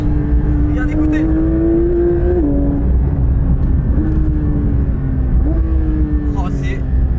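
A 510-horsepower Porsche 911 GT3 (992) engine howls under hard acceleration from inside the car, its loud, high-pitched tone climbing through several gears with short dips at each shift, with someone speaking over it.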